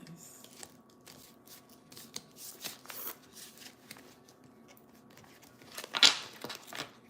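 Tarot cards are shuffled by hand in a quiet room, giving soft, irregular riffling and slapping sounds with a sharper, louder flurry near the end.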